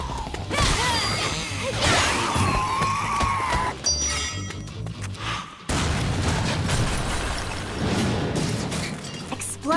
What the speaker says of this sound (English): Explosions are such a cliche.